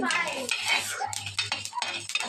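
Soya chunks fry in a pan for a pickle, with a stirring spoon scraping and clanking against the metal through a soft steady sizzle, close and continuous for a couple of seconds.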